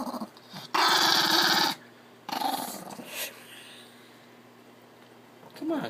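A dog growls angrily from inside a laundry basket, with two loud snarling bursts followed by quieter grumbling and a final growl, while a person speaks nearby.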